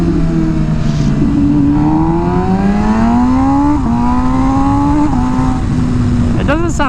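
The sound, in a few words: MV Agusta Rush motorcycle engine revving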